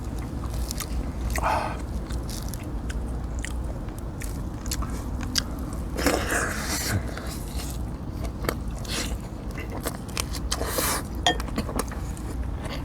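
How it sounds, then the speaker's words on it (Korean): Close, wet chewing and biting of braised kimchi with pork belly, steady smacking and crunching mouth sounds for the whole stretch with a few light clinks, no talking. "맛있어서 계속 쩝쩝거리게 되네."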